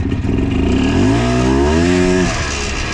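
A 2000 Polaris Trailblazer ATV engine revs hard on a test ride, its pitch climbing smoothly for about a second before dropping back to a rough, loud idle, close to the microphone.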